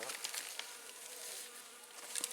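Honey bees buzz around an active hive, a faint, steady drone with a few closer individual bees passing by.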